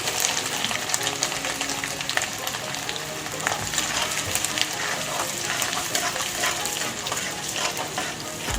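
Garlic and chopped ginger frying in hot oil in a kadai, a dense continuous crackling sizzle, fairly close and steady throughout with no talk.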